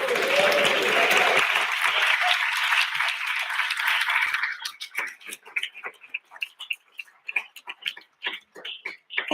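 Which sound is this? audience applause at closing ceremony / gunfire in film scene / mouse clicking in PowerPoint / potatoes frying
audience applause at closing ceremony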